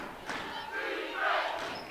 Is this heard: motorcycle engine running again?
no